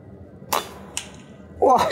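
Air rifle shot with a Rifle Thunder gun firing Qys domed pellets at a 60-meter target, with a sharp crack and a faint later tick, then a brief muffled sound, all fairly quiet and close.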